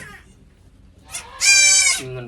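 Karumbi dwarf goats bleat in a pen, one loud, drawn-out harmonic bleat rising to a peak and then tailing off, after a fainter shorter call. Other goats can be heard faintly in the background.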